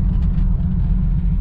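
A 1965 Pontiac Grand Prix engine runs steadily while the car is driven, a loud, continuous low rumble with cabin road noise and no talking.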